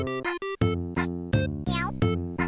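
A short burst of the Super Nintendo Mario Paint cat meow, played as sequenced pitched notes in a quick rhythm with one wavering, sliding meow near the middle. The notes are clear and close.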